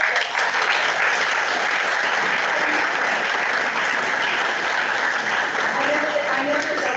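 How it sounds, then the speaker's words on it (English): A conference audience applauds a development day committee with sustained, dense clapping that fills the room at an even level throughout, with voices mixed in under it. "let's give them a round of applause for putting together that"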